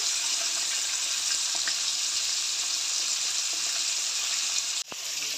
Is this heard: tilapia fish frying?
yes